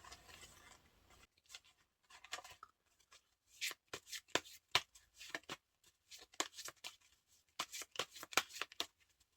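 Tarot cards being shuffled and drawn: soft papery riffles give way to a quick series of crisp card slaps and flicks in irregular bursts, close and fairly quiet, with no speech.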